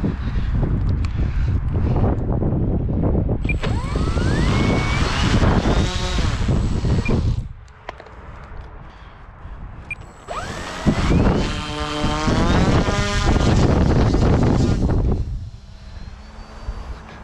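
A loud, high-pitched motor whine from a Blade 360 CFX RC model helicopter, flying poorly, rising and falling in pitch as it revs, with a brief lull midway.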